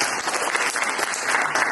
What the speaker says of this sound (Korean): 우리 일석이조팀에게 다시 한번 박수 부탁드립니다